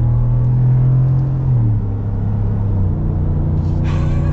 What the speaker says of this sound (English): Ooh, listen to that exhaust.